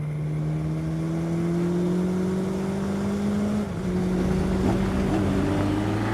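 Race car engine with a five-speed sequential gearbox heard from on board, a loud steady drone that briefly dips as a gear changes, then climbs again in pitch.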